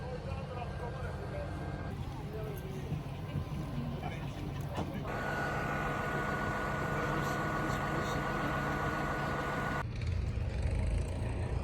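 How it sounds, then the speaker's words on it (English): A sailboat's port engine runs after starting at a boat yard, a steady low diesel rumble that grows louder midway and continues under a voice talking nearby. "Well, our port engine turned on"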